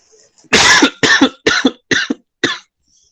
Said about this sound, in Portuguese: É só uma tossinha.